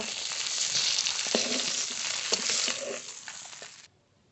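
Hilsa fish head frying in hot oil in a home kitchen, a steady close sizzle with faint stirring clatter that cuts off abruptly near the end.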